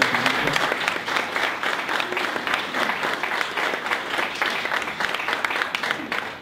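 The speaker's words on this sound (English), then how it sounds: "let's give Derek another round of applause" An audience at a business-to-business marketing talk gives the speaker a sustained round of applause, dense and even, with many hands clapping together.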